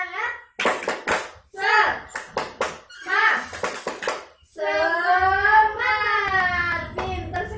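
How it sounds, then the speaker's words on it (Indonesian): A class of children doing a rhythmic spirit clap: several bursts of sharp group clapping mixed with young voices, then a loud, sustained chant from the whole class. "Sebelumnya ayo kita tepuk semangat."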